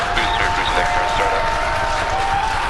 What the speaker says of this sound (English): you can see and heard it by the incredible excitement within the crowd behind me